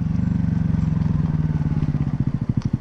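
A Honda Grom motorcycle rides close by, its small single-cylinder engine thumping in a fast, steady rhythm that slows into distinct loping pulses near the end.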